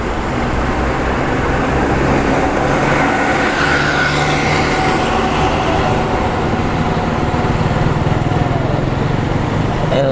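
A Panglima Bus coach on a Mercedes-Benz OH1626 air-suspension chassis with an Adi Putro body rolls past, a loud, steady engine and road roar filling the scene with broadband traffic noise throughout.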